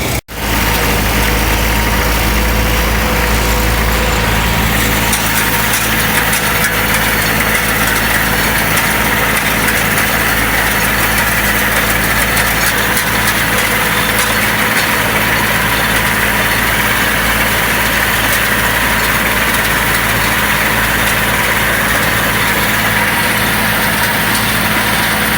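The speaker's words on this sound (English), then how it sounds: "I'll get the tractor started up here with some fuel in it" A farm tractor engine idles steadily after starting, fueled up before baling oats, giving a loud, continuous close-up drone with an even rumble throughout.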